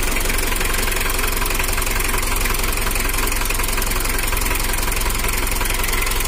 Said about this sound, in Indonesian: Nah, ini udah hidup ya lur untuk mesinnya, dan suaranya ada kemereteknya, mungkin karena masih dingin